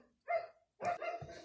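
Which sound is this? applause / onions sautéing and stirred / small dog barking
small dog barking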